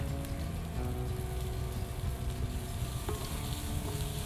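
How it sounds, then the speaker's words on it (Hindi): Chopped onions, garlic and ginger fry in ghee in a kadai, making a steady close-up sizzle and crackle that runs without pause under a low rumble. "देन चॉप्ड प्याज डालेंगे और इसे थोड़ी देर के लिए पकाएंगे।"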